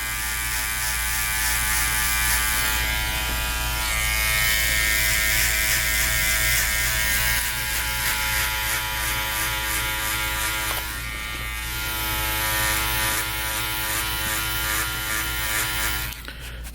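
Electric hair clippers set to about an inch run steadily for a textured haircut, a continuous close buzz with a shifting cutting tone as they pass through hair, alone without talk.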